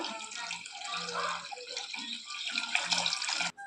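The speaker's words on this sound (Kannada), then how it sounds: "ಇನ್ನೊಂದು ಚಂಬ ಹಾಕೊತಾ ಇದ್ದೀನಿ ನೀರು" Water pours steadily into a pot of country chicken curry, a continuous close splashing gush that runs for a few seconds before cutting off abruptly.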